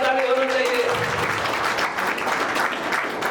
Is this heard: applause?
yes